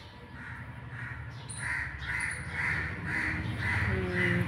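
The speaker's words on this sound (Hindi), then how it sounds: "ये सब चिड़िया पेड़ पे ही बैठी रहती है।" Crows caw from a tree in a repeated, evenly spaced series of harsh calls over a steady outdoor background hum.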